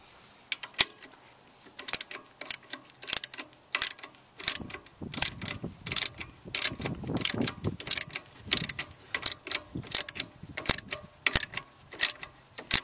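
A ratchet wrench loosens bolts on a 2001 Toyota Camry engine, giving close, crisp clicking bursts in repeated strokes with short pauses, plus faint clanks of metal in between.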